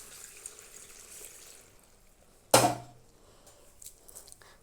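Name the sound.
water being poured into pot for boiling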